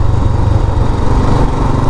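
A 1984 Royal Enfield Bullet Deluxe 350 engine thumps steadily while riding, a loud, close, low single-cylinder throb with a continuous even beat and no talking.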